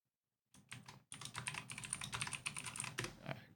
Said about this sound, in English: Clickety clacks. With the keyboard.